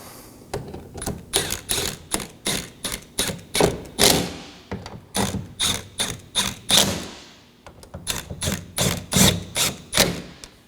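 A ratchet snugs down the mounting nuts on a 2018-2024 Chevrolet Equinox side mirror, giving rapid close clicking bursts in steady repeated strokes with one short pause midway, no talking.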